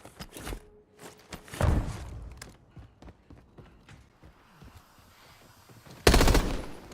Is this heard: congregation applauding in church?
no